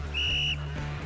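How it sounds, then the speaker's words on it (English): A coach's loud whistle blast in a video game gym scene, one sharp sustained shrill tone lasting under half a second over a low steady background hum. "Roundly loud blow of his whistle"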